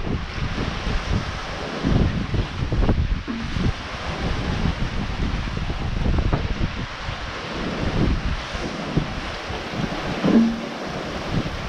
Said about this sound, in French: Toujours du vent, toujours de la mer.